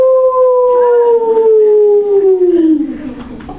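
A voice imitates a wolf howl, one long sustained wail that slowly slides downward in pitch and fades near the end.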